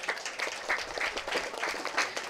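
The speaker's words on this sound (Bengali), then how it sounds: "নিজেদের জন্য একটু জোরে হাততালি দিন" Audience applause at a Ganesh puja pandal awards event in Dum Dum, a steady dense patter of many hands clapping, fairly close and sustained throughout with no voices on top.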